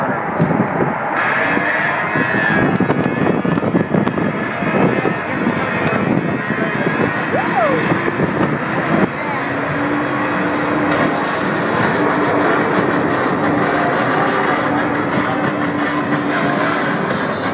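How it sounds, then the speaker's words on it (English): Blue Angels jets roll down the runway on afterburner at an air show, producing a loud, continuous roaring rush that rises and swells, with a sustained engine whine emerging over the last several seconds and faint announcer speech underneath. "Burners ready now, and the Blue Angel Diamond is rolling."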